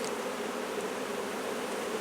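Honey bees in a small nucleus hive give off a steady, close, droning buzz, an unbroken swarm hum at moderate level with no voices.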